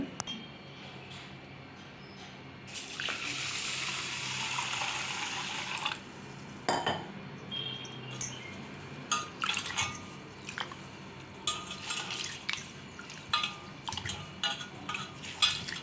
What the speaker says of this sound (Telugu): ముందుగా ఒక కప్పు రైస్ని వాటర్ వేసి బాగా కడిగేసుకొని నానబెట్టుకుందాము